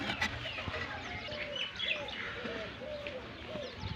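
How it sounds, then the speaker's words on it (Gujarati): Pigeons, a male and a female, coo and chirp softly nearby in a busy, faint outdoor setting, with brief tweets from other birds scattered throughout. "આ કબૂતરી છે એ ચોથો મારા, અને આ કબૂતર માદી"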